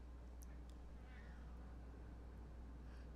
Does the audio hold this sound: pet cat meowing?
yes